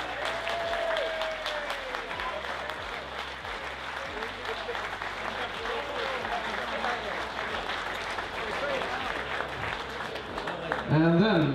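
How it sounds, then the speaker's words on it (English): At a World Feeder Championship 2022 medal ceremony, a crowd applauds steadily for several seconds, with a voice on a PA heard over the clapping. "give them a big round of applause"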